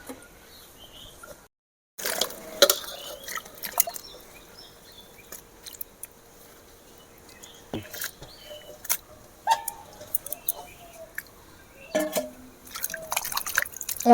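Potato slices for homemade chips dropped into a bowl of water: quiet, scattered drips and small splashes close by, with occasional light clicks against the bowl.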